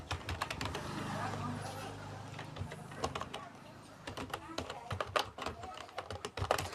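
Rapid, uneven keystrokes on a computer keyboard while typing web development code, with bursts of clicks near the microphone and a steady background hum.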